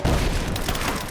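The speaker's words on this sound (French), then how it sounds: "J'ai fabriqué un truc qui explose." A crafted explosive blows up in the video game Rise of the Tomb Raider, a single loud, deep boom that rumbles briefly and fills the moment.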